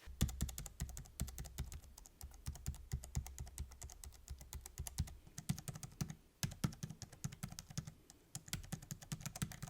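Steady typing on a Logitech MX Keys keyboard for Mac, a quick irregular run of soft, close key clicks with brief pauses, heard alone without talk.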